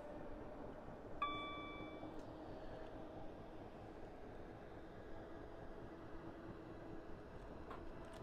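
A suburban train runs along a slower stretch of railway near Glasgow, a faint, steady rumble from inside the carriage, with a brief chime-like ding early on and no talk.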